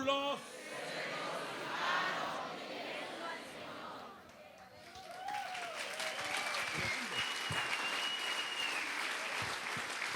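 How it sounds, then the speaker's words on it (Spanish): A church congregation bursts into applause that swells and carries on steadily, with a few voices and scattered sharp claps audible over the sustained clapping. "Yo también voy a aplaudir con ustedes."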